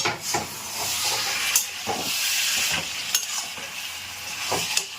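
Mutton curry being sautéed in a pan: a steady close sizzle and hiss of frying, broken by repeated scrapes and knocks of a spoon stirring the meat, with no talking.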